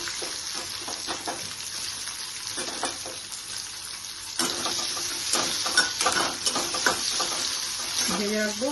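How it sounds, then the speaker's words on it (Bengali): Onions fry in a pan with a steady bright sizzle, growing louder partway through as they are stirred, with scraping touches and a faint voice-like sound at the end. "নিয়ে এখানে পেঁয়াজগুলোকে একটু ভেজে রাখবো।"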